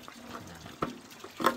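Fresh mountain water splashes and gurgles steadily as it is collected into gallon containers outdoors, with a few louder sloshes near the end and no talking.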